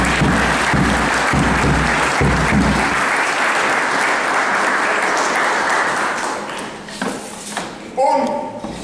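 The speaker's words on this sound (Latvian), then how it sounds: "Aplausi kungiem." An audience applauds a Latvian folklore group, Vilkači, with dense, loud clapping that fades toward the end, giving way to a few scattered sounds and a brief voice.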